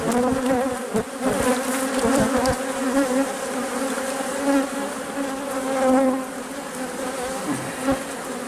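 Dense, steady buzzing of many honeybees close by, a continuous droning hum with a few louder passes of individual bees.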